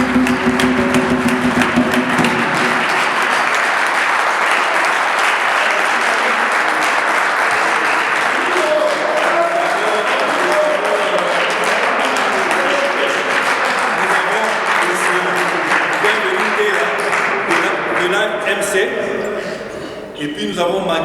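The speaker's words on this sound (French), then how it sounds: "J'aimerais vraiment que la salle puisse applaudir tous nos amis des partis alliés qui sont ici." A rally audience applauds allied party guests: loud, dense clapping from a large crowd that holds steady for about twenty seconds with cheering voices mixed in, then eases off near the end.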